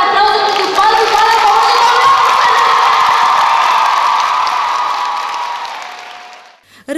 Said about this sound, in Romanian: vreau o rundă mare, mare de aplauze pentru balul balului